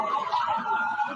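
Emergency sirens wail faintly in the background, a continuous wavering tone with some low murmuring underneath.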